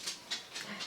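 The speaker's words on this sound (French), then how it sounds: "si vous entendez des petits bruit bizarre, c'est mon chien" A small dog whimpers indoors, four short high whines in quick succession, close and fairly soft.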